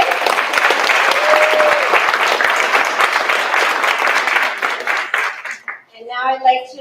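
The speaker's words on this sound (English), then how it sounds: "One more round of applause for José." Audience at a school board meeting applauding a student, sustained loud clapping from a roomful of people that thins out and stops as a voice begins speaking.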